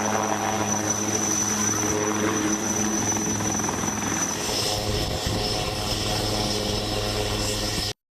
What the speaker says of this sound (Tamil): கடலோர காவல் படை ஹெலிகாப்டர் மூலம் 6 பேரும் பத்திரமாக மீட்கப்பட்டார்கள்